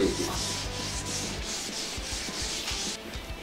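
Sandpaper rubbing over a motorcycle helmet shell in steady, even back-and-forth strokes, close and continuous, as the whole surface is lightly sanded before spray painting.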